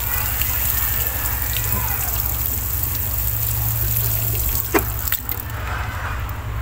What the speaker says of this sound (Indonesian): Ini contoh tanah yang porositasnya bagus, ketika disiram dia airnya langsung turun ke bawah.